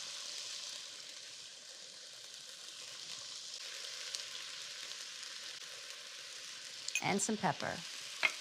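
Vegetables sauté in a pan for a leftover mashed potato soup, giving a steady soft sizzle throughout. Near the end come a few louder stirring and scraping clatters, and a voice speaks briefly.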